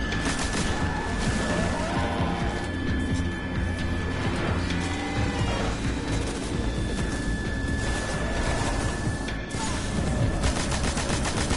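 Rapid gunfire from a weapon in the video game Destiny, dense bursts of automatic shots and impacts repeating loudly and continuously, close up, with no talking.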